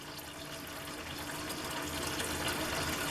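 Tap water runs steadily into a pot holding a turkey being prepared for a Thanksgiving meal, a continuous rushing fill that grows slightly louder over the few seconds, with no talking.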